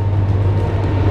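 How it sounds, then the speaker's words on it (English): A train rumbles past near a creek, a steady loud low drone filling the scene with no clear voices, heard close and continuous. "And I hear a train coming."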